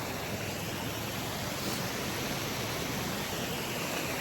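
Water rushes steadily over a check dam in a peaceful outdoor morning setting, a constant, even roar of flow with no voices or other sounds above it.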